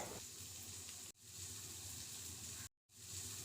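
Steady, loud crackling sizzle of about a teaspoon of mustard seeds frying in hot oil for a tempering, continuous apart from a couple of brief dropouts.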